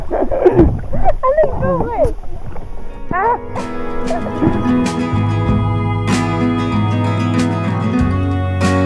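Kayak paddle strokes dip and splash through water on an outing in the Peak District, with voices talking over the first half and a steady low motor-like drone underneath later on.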